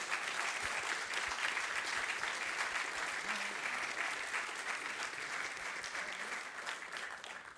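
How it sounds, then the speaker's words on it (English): Sustained applause from a large tech conference audience at the end of a Q&A session, dense steady clapping from many hands that holds for several seconds and eases off slightly near the end, with no voices over it. "Please, last applause."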